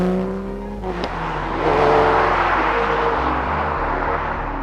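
A Porsche 964 RSR engine breathing through a handcrafted stainless steel exhaust revs up sharply from a low idle note, climbing to a loud, rasping peak and holding a strong, close roar before easing back.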